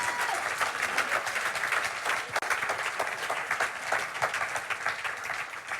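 A church congregation bursts into sustained, enthusiastic applause, a thick wash of many hands clapping at fairly high volume, with crowd noise mixed in.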